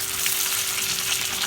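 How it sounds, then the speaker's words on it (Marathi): Mandeli fish crisp up in a pan of hot oil, a dense, bright sizzle that stays close and even throughout the brief moment, with no voices. "आता आपण 5 ते 7 मिनिटं या साईडने सुद्धा चांगली फ्राय करून घेऊया"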